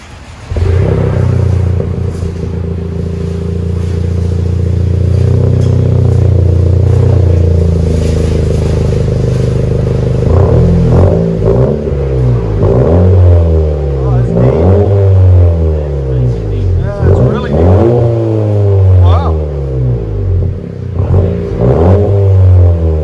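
A 2017 Honda Civic Si with a MAP stainless steel cat-back dual exhaust idles loudly, then barks through a series of sharp revs that rise and fall. Voices are heard around it.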